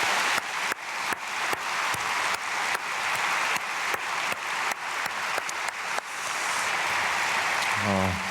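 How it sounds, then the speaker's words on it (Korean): A church congregation applauds in blessing of a family, with sharp, rhythmic, fairly loud clapping that turns into a steady roll, and a brief tone sounds near the end. "크게 박수로 축복하겠습니다."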